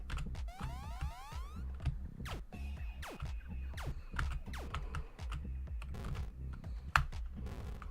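Someone types quickly on a computer keyboard up close, with a dense, irregular run of key clicks and clacks and a few louder taps.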